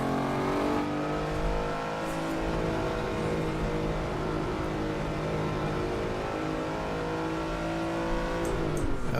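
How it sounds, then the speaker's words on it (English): A Lamborghini Countach's rear-mounted V12 in the Assetto Corsa racing sim at Barcelona's Circuit de Catalunya, a loud continuous engine drone that holds steady revs, then sweeps down near the end as the car slows. "just listen to that V12 in the back."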